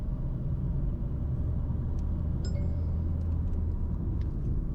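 Mahindra XUV 3XO AX5 diesel automatic engine pulling steadily through gear shifts on the road, a constant low rumble heard from inside the cabin with a few faint clinks, no talk.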